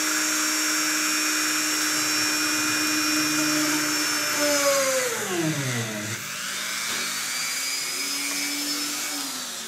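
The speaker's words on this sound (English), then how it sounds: "drill a couple, two holes and get the pick guard kind of anchored" A power drill bores holes through a guitar pickguard, a loud steady whine close up that dips in pitch partway through as the bit bites, then settles back to a steady drone.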